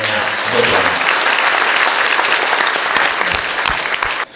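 Sustained applause from a large audience in a hall, dense steady clapping throughout, thanking soldiers at a public event.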